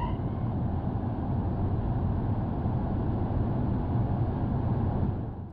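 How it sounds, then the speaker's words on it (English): A very quiet electric car rolls along in the BeamNG driving game, a steady low broadband hum of tires and road noise with no engine note, easing off at the end. "That is the sound of a very, very quiet electric car."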